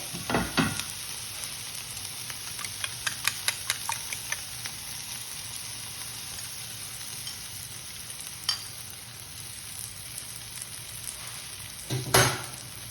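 Beaten egg mixture for an Indian masala omelette frying in a pan, a quiet continuous sizzle with a burst of crackling at the start, a run of light tapping clicks, and a couple of louder knocks later.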